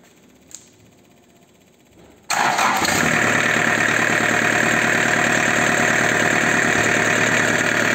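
A Kubota V1505 diesel engine cranks and catches after a quiet lead-in, then settles into a loud, steady, close idle with an even mechanical clatter.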